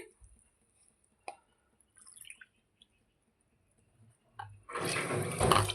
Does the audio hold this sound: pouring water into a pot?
yes